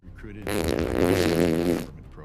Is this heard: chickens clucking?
no